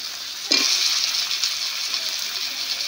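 Cut potatoes drop into hot oil and cooked spice paste for a rui fish curry with ridge gourd, setting off a sudden loud sizzle that settles into steady close frying.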